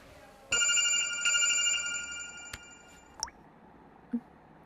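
A mobile phone ringtone chimes steadily and fairly loud for about three seconds, then cuts off, followed by a few faint clicks and a soft thud in a quiet room.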